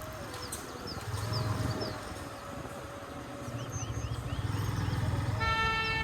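Vehicles stuck in a long traffic jam on the Dhaka–Rajshahi highway honk in scattered short toots and a longer horn blast, with engines idling and birds cooing nearby, all at moderate, somewhat distant level.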